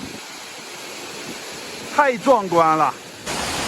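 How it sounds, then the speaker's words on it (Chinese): A loud waterfall at Jiuzhaigou roars in a steady, broad rush close by, while a person's brief exclamation rises over the constant noise of falling water. "走到瀑布的跟前，哇，这个声音好大呀"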